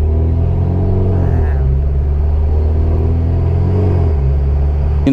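A 2008 Mitsubishi Evolution X engine with a near straight-pipe exhaust, running loud and close in a deep, steady rumble that dips and swells as the revs change, with no talk over it.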